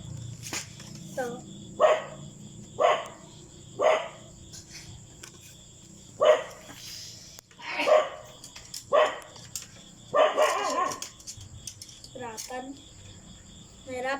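Several dogs at a home bark in short, spaced bursts, about nine or ten across the stretch, some near and some farther off, over a steady chorus of insects or crickets.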